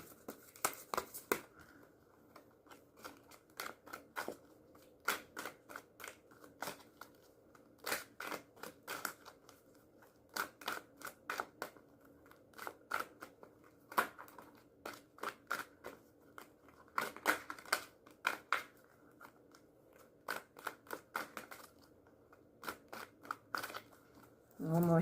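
Tarot cards being shuffled for a reading, a rapid crackling riffle in repeated bursts with short pauses between them, close up and fairly quiet, with no talk.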